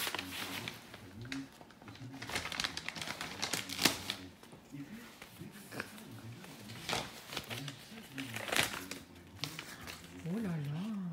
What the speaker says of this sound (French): Maman, elle est en train de galérer avec l'enveloppe.